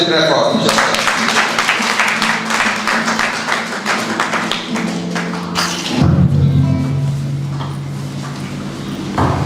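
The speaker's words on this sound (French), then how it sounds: "Donc, l'applaudissement très fort." An audience applauds at a book presentation and dedication ceremony, the sharp clapping steady and fairly loud for several seconds before it thins out behind murmuring voices and someone speaking.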